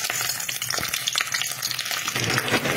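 Onion frying in oil makes a loud, dense, continuous sizzle close to the pan, steady throughout with faint crackles and no voices.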